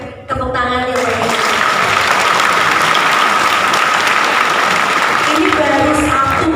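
Sustained, loud audience applause filling a university lecture hall at a talk, starting abruptly after a brief moment and continuing steadily to the end.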